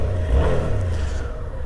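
Motorcycle engine revving up and holding at a high, strained pitch, loud and close, during a ride from Pico do Imbiri to Gruta dos Crioulos, with no voices.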